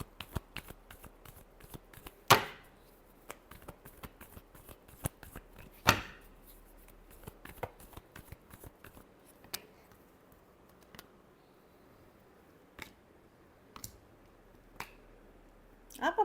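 Tarot cards being shuffled in a final round: sparse soft riffles and sharp snaps scattered over a quiet background, with a few louder card flicks standing out.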